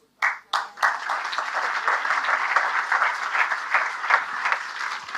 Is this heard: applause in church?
yes